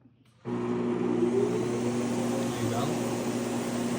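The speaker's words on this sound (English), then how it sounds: "When I click this on, it will go down and also turn on the vacuum." Vacuum on a CNC machine switching on abruptly after a near-silent moment, then a steady loud whooshing hum with a low motor tone that holds to the end.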